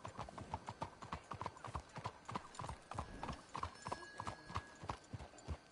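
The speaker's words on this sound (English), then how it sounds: "Let's hitch the horses up ahead." Horses walk on a hard surface in the video game Red Dead Redemption 2, their hooves clip-clopping in a quick, close, uneven rhythm throughout.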